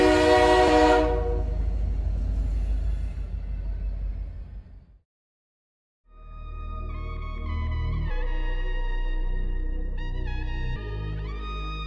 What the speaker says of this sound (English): All aboard the night train.